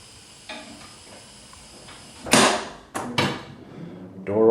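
A wheelchair lift door at a Lutheran church opens with a clatter and a brief mechanical whir, heard up close over a quiet room with a low hum behind it, followed by a few more knocks and rattles.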